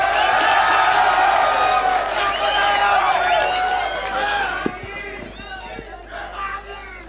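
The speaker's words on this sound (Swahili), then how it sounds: "Makofi kwake." A large crowd at Raila Odinga's political rally in Chuka, Tharaka Nithi County, cheers and shouts in a loud, dense roar that thins out after a few seconds, with scattered voices continuing.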